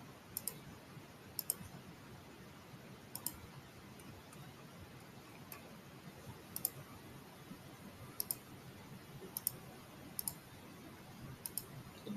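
Computer mouse clicks, faint and sharp, in scattered pairs and singles over a quiet background hiss.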